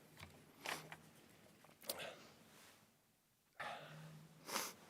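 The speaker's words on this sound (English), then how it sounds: "sniffles." A man at a university athletics press conference sniffles through his nose in a few short, close bursts separated by quiet pauses, with faint background sound between them.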